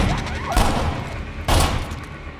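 Gunfire in a robbery film scene: two loud, sharp shots about a second apart ring out over a dense rumbling background, each burst briefly flooding the sound before it settles back down.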